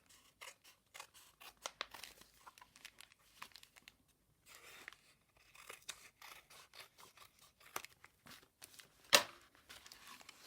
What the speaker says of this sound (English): I'm going to cut it across the top, because this is such a lovely envelope